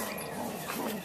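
A pet dog barks and yips indoors, with short, yappy sounds half buried in steady background noise and some voices.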